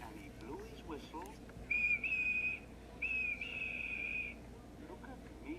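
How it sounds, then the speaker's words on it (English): Edward the steam engine in Trainz sounds his whistle in two clear, shrill blasts, the second one longer, over a low rumbling background and some faint voices. "And he blew his whistle."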